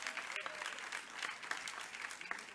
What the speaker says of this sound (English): So I would like to applaud them just for that aspect.